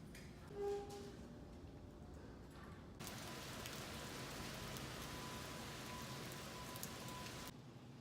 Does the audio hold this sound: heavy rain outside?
yes